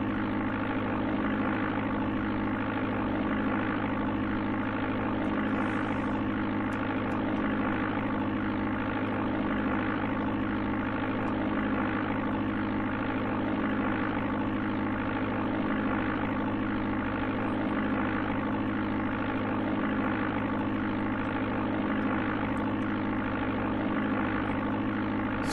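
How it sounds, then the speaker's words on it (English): Plane engine in the Amiga game Flight Simulator II drones steadily for the whole stretch, a loud, unbroken propeller-like hum with no talk over it. "We have ourselves a spot plane."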